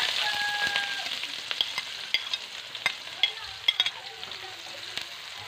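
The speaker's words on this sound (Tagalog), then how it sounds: "Gisahin na natin ang ating bawang," Garlic, onion and ginger sauté in a pan with a hissing sizzle and a run of sharp, irregular spatula scrapes and clicks against the metal, all close up.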